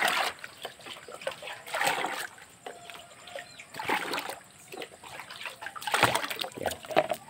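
Water sloshes and splashes in irregular pours as a bucket of water is tipped onto eggplant and other vegetable plants beside a house, close and fairly loud.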